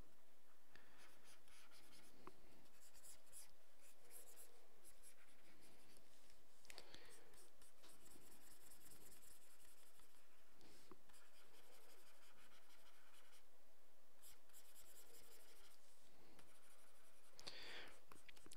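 A pencil drawing on paper for concept art rendering, with soft continuous scratching and shading strokes at a close, faint level, in a steady irregular rhythm across the whole stretch.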